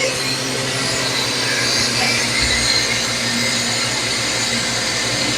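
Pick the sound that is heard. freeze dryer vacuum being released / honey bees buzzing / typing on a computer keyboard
freeze dryer vacuum being released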